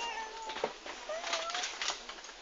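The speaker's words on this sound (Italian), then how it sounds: "Ellie, c'è un gatto che miagola." A plush toy cat gives out a few thin electronic meows, faint and fairly close, over a quiet hiss.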